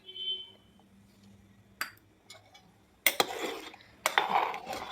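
A Marathi home cook stirs a kurma mixture seasoned with salt and garam masala in a pan, giving a few short scraping clinks that come in two busy bursts after a quieter stretch, close and moderately loud.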